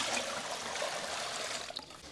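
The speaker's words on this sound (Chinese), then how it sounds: "猪排先洗一下" Faint running water splashes and trickles steadily while pork ribs are rinsed, a brief, even wash of water sound.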